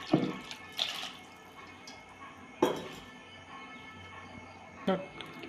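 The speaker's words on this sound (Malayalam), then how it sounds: "കുടംപുളി ഒരു രണ്ട് വലിയ പീസ് വെള്ളത്തിലിട്ട് വെച്ചതാണ് ചൂടുവെള്ളത്തിലിട്ട് വെച്ച് അത് ഞാൻ ഇതിലേക്ക് ഒഴിച്ചു കൊടുക്കുകയാണ്" Soaked kudampuli (Malabar tamarind) water is poured into a Kerala-style coconut fish curry in a few separate splashes and trickles, close by, with faint clinks of the vessel between pours.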